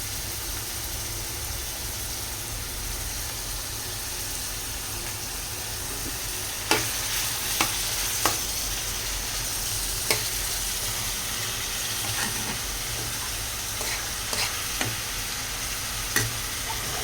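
Onions fry and get stirred in a pan with a continuous loud sizzle, while occasional sharp scrapes and taps from a spoon stand out over the hiss.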